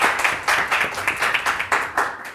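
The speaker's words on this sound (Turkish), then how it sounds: "Hülya'ya da bir alkış." A studio audience gives a short burst of rhythmic clapping, several hands together, moderately loud.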